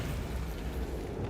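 A Bombarda blast spell in Hogwarts Legacy booms out as a dense, loud, rumbling explosion that fills the whole moment with no talk over it.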